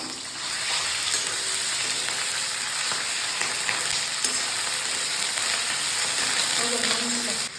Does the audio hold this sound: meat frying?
yes